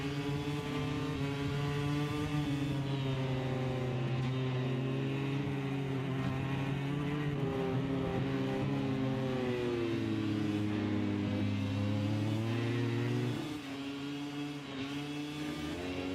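A MotoGP racing motorcycle screams at high revs in an onboard ride with Franco Morbidelli at Misano through Tramonto and into the fast Curvone, the engine note rising and falling through gear changes, loud and continuous.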